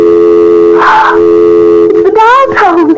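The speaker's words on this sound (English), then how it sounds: "It's the dial tone." A loud, steady telephone dial tone hums throughout, with a voice speaking over it briefly and again near the end.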